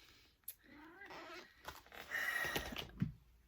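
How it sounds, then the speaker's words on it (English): A needy house cat meows repeatedly for attention, several drawn-out, wavering calls close by, with rustling handling noises around them and no talking. "My cat is being very needy today, and he's fed, so it's not, he just wants attention"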